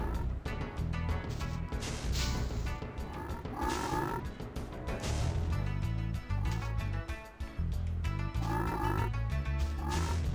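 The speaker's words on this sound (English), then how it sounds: "These fucking frogs." Frogs croak repeatedly in a swamp level of the Spyro the Dragon video game, with layered rhythmic croaks over dense game music and effects throughout.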